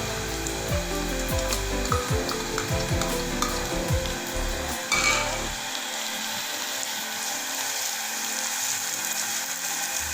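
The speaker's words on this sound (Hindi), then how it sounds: "इसको तब तक भुनेंगे जब तक इसका हल्का सुनहरा कलर नहीं आ जाता" Ginger garlic paste fries in a hot pan, a loud steady sizzle with scraping stirs and utensil clinks near the start, then a continuous hiss.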